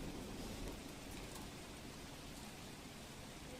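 Heavy monsoon downpour over farmland in rural Manavadar, a continuous, even hiss of rain on surfaces with no breaks or voices.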